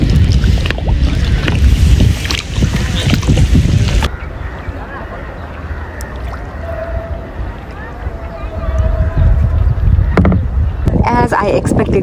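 A kayak rocks on choppy lake water at Pokhara while rain begins, with close, loud wind buffeting the microphone and sloshing, splashing water throughout, easing in the middle before rising again.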